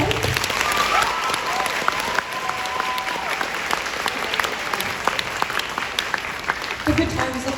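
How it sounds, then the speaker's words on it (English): Audience applause at a music graduation ceremony, a sustained crowd of many people clapping in a large room at a steady, moderately distant level, with scattered voices and cheers mixed in. "Can we get a round of applause for Miss Jack?"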